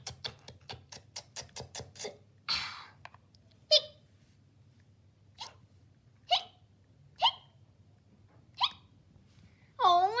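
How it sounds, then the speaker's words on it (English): Repeated hiccups from someone who ate too fast, each sharp catch spaced about a second apart, following a run of quick clicking sounds at the start, close and fairly quiet with a low hum underneath. "don't eat it so fast or else you get some hiccups"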